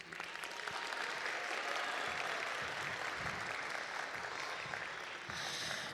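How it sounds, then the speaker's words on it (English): Audience at a school winter concert applauds a 5th grade drum group, a steady, dense wash of many hands clapping that fills the room from start to finish. "Let's have another round of applause for the 5th grade drummers"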